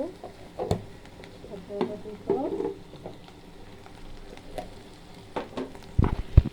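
Turmeric powder frying in a pan gives a soft, quiet sizzle, broken by a few light scrapes and stirring clatters, with one sharper knock near the end.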